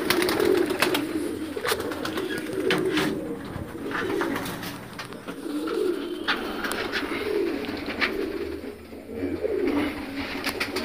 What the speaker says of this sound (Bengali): এই আমার ঘরে চার জোড়া পায়রা আজকে বসালাম।